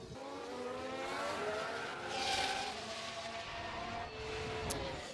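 A Formula 1 race car in F1 Manager 24 locks its brakes and spins, a loud sustained engine drone with a rising screech of tyres midway, then settling, with no voices.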